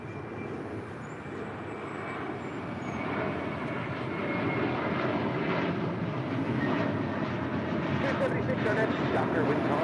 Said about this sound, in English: And heading to JFK, American Airlines Flight 184 in an A321 taking off